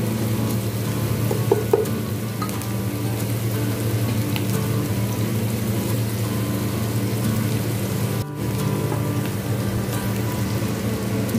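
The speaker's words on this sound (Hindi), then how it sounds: "और तेल में प्याज को अच्छी तरह फ्राई कर लेंगे।" Onions fry in hot oil, cooking toward a light golden colour for a chicken pulao. A steady, crackling sizzle runs throughout, with only a brief dip partway through and no voices.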